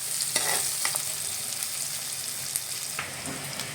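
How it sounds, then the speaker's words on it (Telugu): Chopped onions frying in a pan, a steady close sizzle with scattered crackles and a few stirring scrapes, no voices. "ఉల్లిగడ్డలు వేసుకోవాలి. ఉల్లిగడ్డలు కొంచెం ఏగనివ్వాలి"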